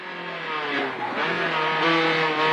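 A rally car accelerates around a race circuit at the Oscar Crespo track, its engine note holding loud and steady with rising harmonic tones for a few seconds, close and continuous, with no speech over it.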